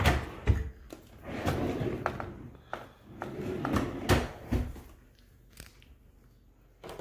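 Bathroom drawers slide open and shut in quick succession, giving sharp wooden knocks and thuds mixed with rattling, close by, while someone talks briefly between them.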